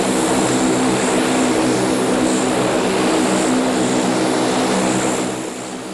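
A Coast Guard four-engine propeller aircraft runs with a loud, continuous droning roar up close, holding steady before easing slightly at the end, with no voices.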